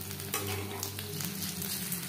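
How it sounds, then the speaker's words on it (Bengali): Chicken pieces frying in hot oil on a medium flame for crispy chicken fry, with a continuous close sizzle and occasional light stirring sounds. "চিকেন ফ্রাই করব মিডিয়াম ফ্লেমে।"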